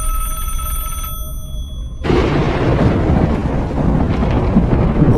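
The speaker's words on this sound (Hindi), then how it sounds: "उस टेलीफोन की बेल रिंग करती है" A telephone bell rings with a sustained bright metallic tone for about two seconds, then cuts into a loud rumbling thunder-like boom that carries on to the end, in a horror short film.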